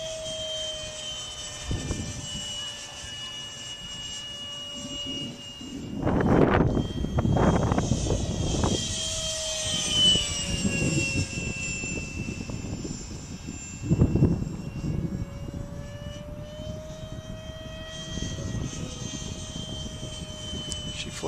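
EF-16 model jet aircraft on its maiden flight, a high turbine whine sweeping in pitch as it passes overhead and away, with louder rushing swells during close passes.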